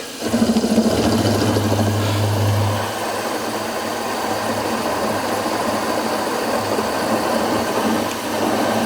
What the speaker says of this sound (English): So, in with the counterboring bit.